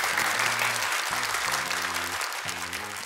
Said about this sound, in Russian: Прошу красной кнопки под аплодисменты нашей студии.